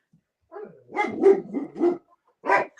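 Several dogs bark in a quick run of bursts, a cluster of four close together and one more after a short pause, loud and near with no talk over them.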